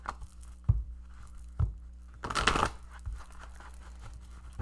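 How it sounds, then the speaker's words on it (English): Romance Angel cards pulled and shuffled from a deck, giving a few soft papery slaps and a brief crinkling riffle up close in a quiet room. "So let us pull some Romance Angel cards."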